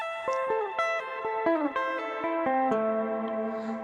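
Descending three-string arpeggio sequence on electric guitar through effects with chorus and reverb, a steady run of plucked notes stepping downward, clear and ringing, alone.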